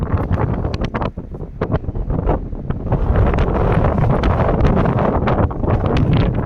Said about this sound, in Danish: Blæser omkring en 17 meter per sekund. Det er rigtig god vind.